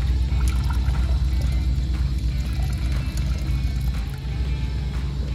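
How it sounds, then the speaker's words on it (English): Silver chloride solution boiling vigorously in a vessel, a steady bubbling and pouring-like liquid churn that stays loud and continuous throughout, with no voices. "we got a nice boil going on after silver chloride"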